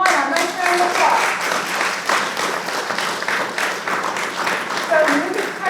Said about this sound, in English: Come on up, nice round of applause.